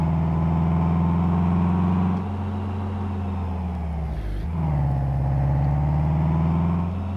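A Volkswagen Amarok 4x4 drives in Euro Truck Simulator 2, its engine a steady, loud mid-pitched drone. It dips briefly when a gear changes, then climbs again and holds. No voices are heard.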